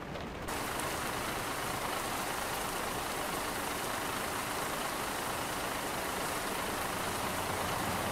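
Steady rain patters on a truck's metal surface in a video game, a constant dense hiss with a low engine rumble underneath, no voices.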